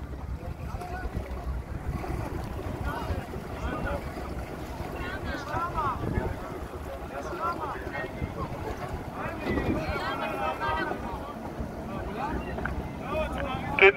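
Sailing yacht with no engine entering a marina under a jib, heard as wind buffeting the microphone and water sloshing against the hull, fairly quiet and steady, with people talking over it.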